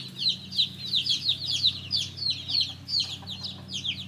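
Hens clucking and peeping as new chicks meet the older flock, a busy run of high, chirpy calls close by, repeating in quick, uneven bursts over a steady low hum.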